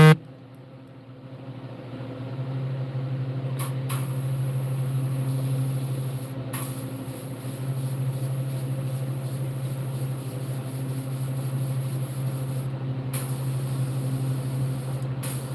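Airbrush spraying black paint onto an unfinished largemouth bass model: a steady hiss with a low compressor hum that runs continuously, broken by a few brief sharp bursts.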